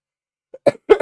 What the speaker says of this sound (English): coughing fit is back again